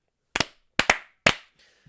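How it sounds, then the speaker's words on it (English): Three sharp hand claps from podcast hosts indoors, one single clap followed by a quick double clap and one more, close and loud with silence between. "3 claps."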